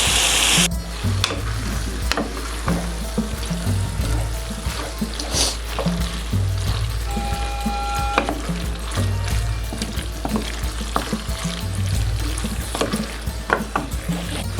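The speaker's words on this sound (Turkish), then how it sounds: "İyice kavuruyoruz." Hot peppers and basil sautéing in a pan, a continuous sizzling crackle with rhythmic stirring scrapes throughout, fairly close and steady.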